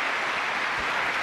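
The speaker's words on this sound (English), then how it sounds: "There's Joe and his 2 boys clapping that century break." Clapping from a snooker crowd for Mark Williams' century break at the 2015 Welsh Open quarter-final, a steady, full wash of applause throughout.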